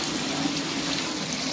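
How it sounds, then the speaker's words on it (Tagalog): High-tide floodwater flowing in past a net barrier in Bulacan, a steady rushing wash of water with a faint hum, close and unbroken for a short moment. "dito na pumapasok yung tubig, no?"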